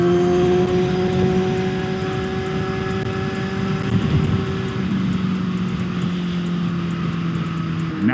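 Motorcycle engine droning steadily while riding on the road, with clear tonal engine harmonics and continuous wind and road rumble, loud and close throughout with no talk.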